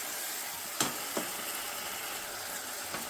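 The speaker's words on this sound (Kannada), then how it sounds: "ಕೈ ಬಿಡದೆ ಒಂದು 4 ರಿಂದ 5 ನಿಮಿಷ ಚೆನ್ನಾಗಿ ಲೋ ಫ್ಲೇಮಲ್ಲಿ ಆಡಿಸ್ಕೊಬೇಕು" Banana halwa is stirred in a pan over a low flame, giving a soft, steady sizzle with a few sharp spoon clicks against the pan, quiet and close.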